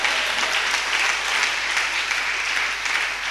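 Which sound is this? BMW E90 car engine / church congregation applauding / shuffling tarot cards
church congregation applauding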